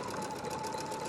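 A sewing machine zigzag-stitching over wire to make a pipe cleaner insert for a face mask, a steady close mechanical whirr with a fast even rhythm running alone throughout.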